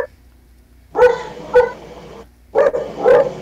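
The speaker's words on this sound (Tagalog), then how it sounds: "Ingay ng aso." A dog barks in two pairs of loud, close barks, separated by a short pause, with no talking.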